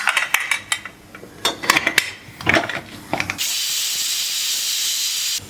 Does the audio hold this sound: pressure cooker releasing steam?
yes